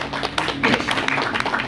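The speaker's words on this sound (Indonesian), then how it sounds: "tepuk tangan untuk beliau." A small audience at a company break-the-fast gathering for CV Puspita Beverages in Jatibening claps in sparse, distinct hand claps at an uneven pace, close and moderately loud.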